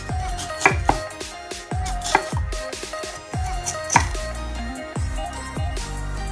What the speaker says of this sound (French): on va détailler en morceaux de 1 cm d'épaisseur